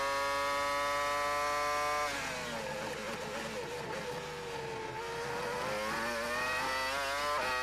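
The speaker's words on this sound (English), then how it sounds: "the Mercedes V10 engine working hard in the back of the McLaren here" A Mercedes V10 engine in a McLaren Formula 1 car at the 2002 Canadian Grand Prix screams at high revs, dips briefly as the throttle eases, then climbs back to a loud, sustained, harmonic-rich wail from start to finish.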